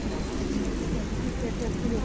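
Steady rain falls loud and close, a dense continuous hiss with a low rumbling undertone like distant thunder, lasting the whole short stretch without pauses.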